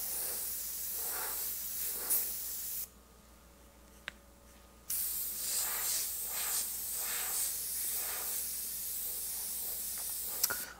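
Airbrush spraying paint onto a sheet of paper, a steady close hiss in repeated bursts, broken by a short pause and a click before spraying resumes.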